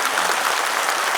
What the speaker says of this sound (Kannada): ಒಂದು ಜೋರು ಚಪ್ಪಾಳೆ ತಟ್ರಿ.